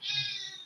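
A cat gives one drawn-out, fairly loud meow close by, a single sustained cry with no talking over it.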